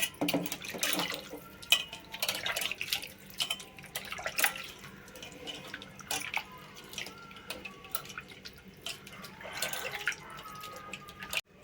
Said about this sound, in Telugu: ఇప్పుడు చింతపండు పులుసు పోసేసుకుందాం